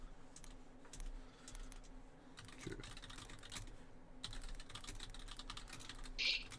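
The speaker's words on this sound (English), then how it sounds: "I'm typing up a bonkers live cast." Rapid, close typing on a computer keyboard, with irregular bursts of key clicks and short pauses, fairly quiet and without talk.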